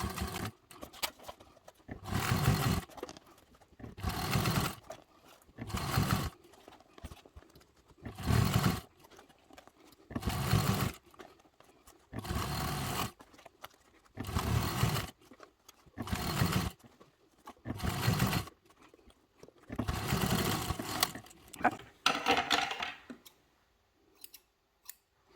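Sewing machine stitching fold over elastic binding onto a crescent-shaped bag, about a dozen short bursts of whirring stitches separated by pauses, close and moderately loud, with no talk.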